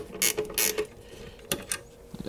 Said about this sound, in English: using the screwdriver to hold the ratcheting wrench in place where I want it